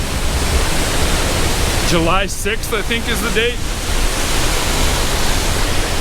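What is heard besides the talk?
raging waterfall along the Beartooth Highway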